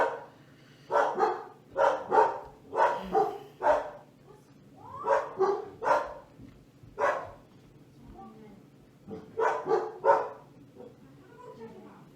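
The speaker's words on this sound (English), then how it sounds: "Now I have to pause the video because of the dogs" Dogs bark repeatedly nearby in loud clusters of sharp woofs with brief pauses, some higher yips mixed in, continuing through the stretch.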